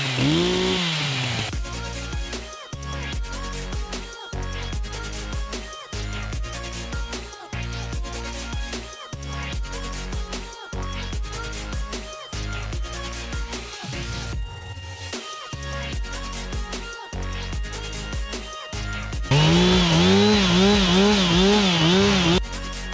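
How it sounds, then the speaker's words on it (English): Chainsaw cutting through massive logs, its engine held at a loud, steady snarl with rhythmic dips as the chain bites into the wood, and idling revs rising and falling at the start and end. "I'm going to come in with the chainsaw and cut these logs so that I can get them out."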